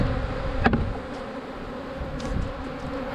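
Honey bees buzz inside an open hive during a check of the frames, a dense continuous drone close by with a brief sharp knock early on.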